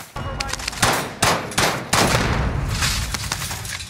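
Sniper gunfire in a shooter video game: sharp, loud cracks arriving one after another at irregular intervals, with metallic clangs and dense, steady game noise behind them.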